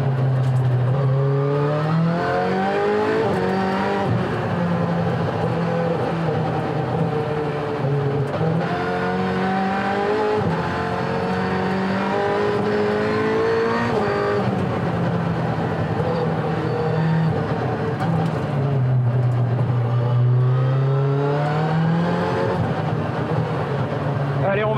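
An Alpine A110 Pikes Peak race car with 500 horsepower roars and accelerates through rising and falling gear changes, loud and close from onboard, with a driver talking over the engine.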